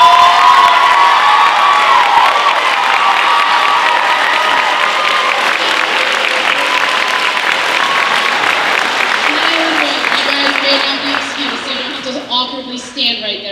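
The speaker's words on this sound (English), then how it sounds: "Can we give one more round of applause to our lovely helpers?" A school audience at a Glacier Peak High School production of The Little Mermaid bursts into loud, sustained applause with cheering and whoops, a packed roar that slowly thins out toward the end.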